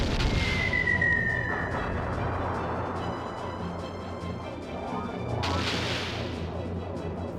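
The Moonstone Cannon fires in the video game Skies of Arcadia Legends, a heavy booming blast with a long rumbling roar and a rising whine, followed by a second surge of explosive noise.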